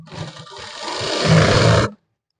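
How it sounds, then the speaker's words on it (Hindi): A sewing machine runs a continuous stitch on a fixed pocket for a shalwar, its whirring motor rising and steadying before stopping abruptly, close and loud with no talk. "इस तरीके से आप सिलाई लगाते जाइए, देखते जाइए किस तरीके से सिलाई लग रही है"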